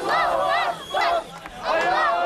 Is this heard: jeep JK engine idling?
no